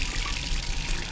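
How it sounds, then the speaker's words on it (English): A faucet runs steadily while a water ionizer is flushed, a continuous close hiss of flowing water with no voices. "we're just going to turn on the faucet"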